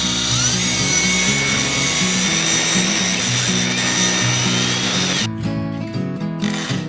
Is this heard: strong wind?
no